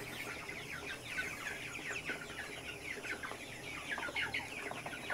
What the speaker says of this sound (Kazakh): Мына балапандар өсіп жатыр.